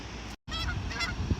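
Canada goose honking close and loud, a short burst of harsh honks with a brief silent gap partway through.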